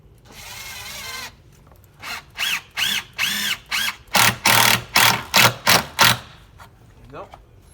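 A power drill drives 3 1/8-inch trim head screws through a jamb extension into an exterior front door jamb, heard as a long whir and then a run of short, loud, rhythmic bursts, with a voice talking briefly.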